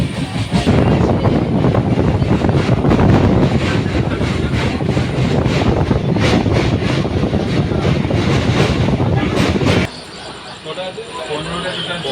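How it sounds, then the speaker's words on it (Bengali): A passenger train pulling into Kharagpur roars steadily from inside the carriage, rumbling and clattering loudly for most of the stretch before the noise suddenly softens near the end. "আমাদের ট্রেন এখন খড়গপুরে ঢুকে গেছে"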